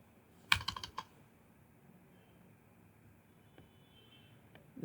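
Quiet computer keyboard typing in a short burst of close, crisp key clicks, followed by a few isolated taps over faint room noise.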